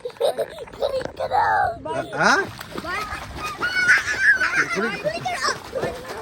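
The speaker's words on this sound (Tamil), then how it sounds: "என்ன ஆத்துல குளிக்கிறீங்களோ" Water splashing and sloshing with children's voices chattering and calling out nearby as they bathe in a river, lively and continuous.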